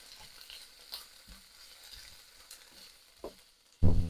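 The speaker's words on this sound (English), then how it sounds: "So yes, this is a vegetable stir fry." A vegetable stir fry with oyster mushrooms sizzles softly in a pan, with quiet stirring bumps throughout and a loud clunk right at the end.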